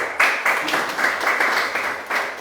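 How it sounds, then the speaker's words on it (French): A crowd claps steadily for a couple of seconds, a dense patter of applause with rhythmic surges, fairly close and loud. "que je vous prie d'applaudir, s'il vous plaît"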